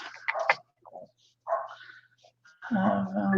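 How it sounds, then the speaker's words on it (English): A dog barks and yips a few times in short bursts, at close range, with quiet gaps in between. "my dog having a barking fit"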